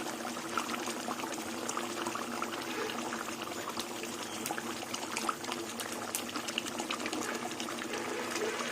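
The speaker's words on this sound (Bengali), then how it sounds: "এবার কাঁচা সর্ষের তেল দু চামচের মতন দিয়ে দেবো" Raw mustard oil pours steadily into a pan of hilsa fish curry, a continuous close, gushing liquid wash that holds at an even level throughout.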